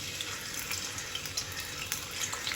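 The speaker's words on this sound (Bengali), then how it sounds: "তেলটা গরম হয়ে গেছে পেঁয়াজটা দিয়ে দিলাম" Onion is dropped into hot oil for a rohu fish bhuna and fries with a continuous close, crackling sizzle and hiss, with small pops throughout.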